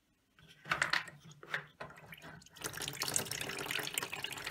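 Water drains out of a Hotpoint washing machine tipped forward, starting with irregular splashes and trickles, then settling into a steady, close pouring gush.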